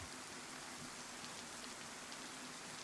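Steady rain falls in the DayZ survival game on the Chernarus map, a soft, even patter across the whole span with a faint low hum underneath and no voices.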